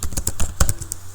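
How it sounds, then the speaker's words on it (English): Quick bursts of keystrokes on a computer keyboard while C code is entered in VS Code, close and moderately loud, with brief uneven pauses between clusters of taps. "So I'm going to type this code."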